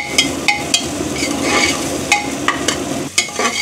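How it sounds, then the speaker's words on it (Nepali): Onions fry in a pan for a Thakali-style mutton head curry, a continuous sizzle broken by sharp knocks of a spatula on the pan every half second or so, close and loud. "प्याज अलि ब्राउन हुन दिने रातो रातो हुन दिने"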